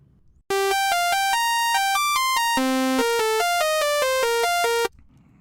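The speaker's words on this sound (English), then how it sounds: "So we have a simple sawtooth wave patch." A simple sawtooth wave synth patch from Logic's ES2 plays a fast melody of bright, buzzy single notes, one after another with no gaps, loud and electronic against a quiet background.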